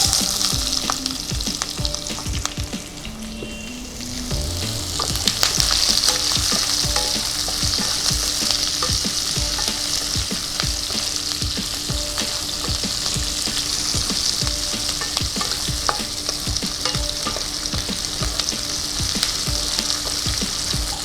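Chopped onions hit hot oil with whole cumin and are stirred for masoor dal khichuri, giving a steady, close, continuous sizzle with scraping stir noises throughout.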